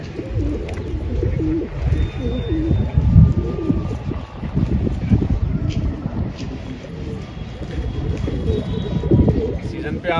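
Patiala pigeons on a rooftop coo in a dense, continuous low warble, close and fairly loud, with wind and a voice murmuring faintly in the background.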